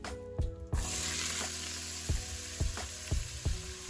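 Vegetables sizzling in a hot pan just used for searing beef short ribs, a steady fry with several sharp stirring clacks and bursts of spatter, close and fairly loud.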